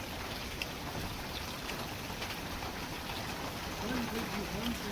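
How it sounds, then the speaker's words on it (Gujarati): Steady rain falls throughout, a dense even patter over the whole scene, with a low murmur of activity underneath. "અને વરસાદ આવી ગયો તે તો વરસાદ આવી ગયું છે."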